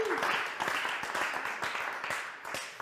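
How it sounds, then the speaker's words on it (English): A small audience claps in a steady round of applause at the close of a mortgage training session, dense overlapping claps held at an even level throughout without a break. "Give yourselves a round of applause."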